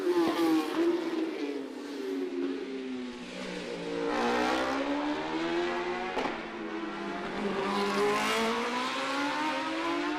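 Racing motorcycles, including a Honda, roar continuously along the Macau Grand Prix street circuit, engines rising and falling in pitch as bikes pass at close range, loud and steady throughout with no speech.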